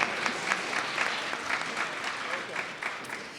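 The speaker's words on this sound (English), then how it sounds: "You can clap for that." An audience at a law school first-year welcoming ceremony applauds a scholarship recipient, a steady moderate wash of clapping from a mid-sized room, with a voice faintly audible under it.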